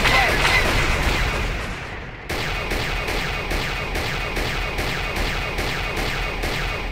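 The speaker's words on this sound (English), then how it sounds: "Time to shoot people." Gunfire in the video game Star Wars: Knights of the Old Republic: dense, loud blaster and weapon bursts repeat in a fast, regular rhythm, continuing after a brief dip midway.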